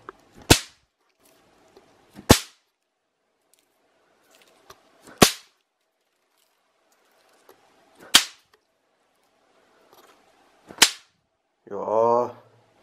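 Five sharp, loud snap pops burst one at a time, each a few seconds apart, with quiet between them and a brief rustle at the end.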